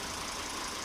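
A Volvo S60 2.5T engine idles steadily nearby, giving a short, continuous mechanical hum.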